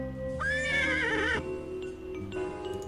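A cartoon horse in the Pajama Sam video game gives one clear, fluttering whinny lasting about a second, followed by a soft snort over a quiet game background.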